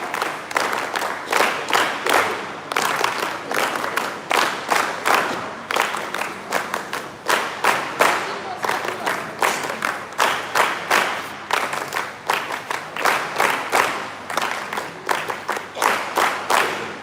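Audience applause honoring a felicitation at an NSS West Bengal university event, steady dense clapping from a crowd sustained throughout, moderately loud with a slight rhythmic swell.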